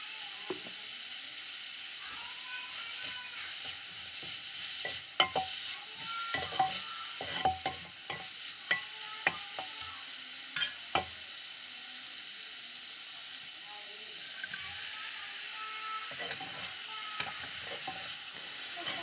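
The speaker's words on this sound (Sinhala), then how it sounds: "අපි අර බෙදලා තියාගත්ත මාළු ටික දාලා ටෙම්පරාදු කරගන්නවා" Fish pieces frying in a pan with chili and pepper, a steady close sizzle broken by clattering stirs and scrapes of a spoon, busiest through the middle and easing toward the end.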